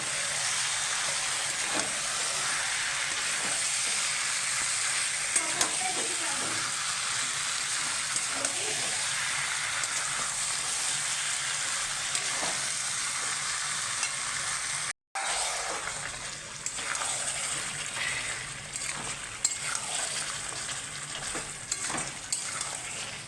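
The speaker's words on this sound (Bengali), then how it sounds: "একদম মাংসগুলোকে এই যে সমান করে দিচ্ছি আমি, একদম নেড়ে চেড়ে।" Skin-on country chicken, dusted with Kashmiri chili powder, fries in a pan with a steady, loud sizzle. Stirring adds scraping and shifting sounds, with a brief dropout near the middle.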